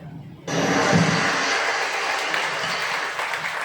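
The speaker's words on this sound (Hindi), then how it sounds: "तालियां जरूर बजाना आपको" Sustained applause from an audience at a Sunday afternoon spiritual talk begins abruptly and continues steadily, a dense wash of clapping that fills the whole stretch.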